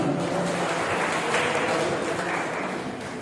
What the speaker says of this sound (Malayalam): ഒരു നിറഞ്ഞ കയ്യടി അദ്ദേഹത്തിന് നമുക്ക് സമർപ്പിക്കാവുന്നതാണ്